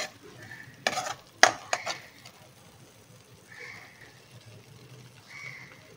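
Butter chicken masala is sautéed in a pan: a low, soft sizzle runs under a few sharp clinks and scrapes of a spoon against metal, followed by gentle stirring.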